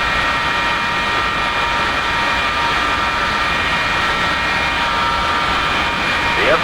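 Steady broadband jet engine roar from an F-4E during a cold start in the DCS flight simulator, a continuous loud whine-and-rush with faint rising tones near the end.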